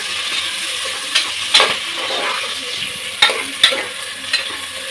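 Onions sautéing in a pan until golden for tomato rice, crackling with a close, even sizzle broken by a few sharp spoon clinks and scrapes.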